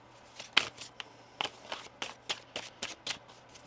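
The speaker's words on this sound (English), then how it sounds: "One more shuffle here." Tarot cards are shuffled in a run of quick, crisp riffling bursts, about a dozen soft snaps in an irregular rhythm, close and fairly quiet.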